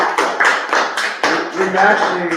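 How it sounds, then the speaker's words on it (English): A small group at a youth sports tournament broadcast claps in uneven bursts, close and fairly loud, with some voices mixed in among the clapping. "give yourselves a round of applause"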